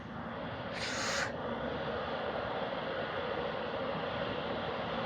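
Boeing 747 landing in a flight simulator game: a steady, broadband jet engine roar with rumbling wind noise, fairly loud and continuous, and a brief brighter hiss surge near the start as the wheels meet the runway.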